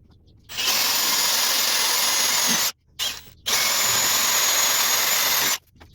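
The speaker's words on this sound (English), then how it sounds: "now we're going to drill those holes out" A power drill whines loudly and steadily in two long runs, briefly stopping and restarting between them, up close with no voices, drilling holes to mount a Badland 2500-pound winch on a mower.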